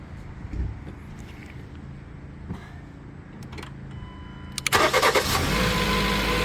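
A Jeep Compass engine, which previously would not start, cranks briefly after an auxiliary battery install, then catches and starts, settling into a loud steady idle close by.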